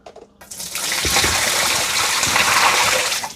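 Dirty water from a Dreame or Roborock robot vacuum's tank is poured out, gushing loudly and steadily for a few seconds after a brief quiet start.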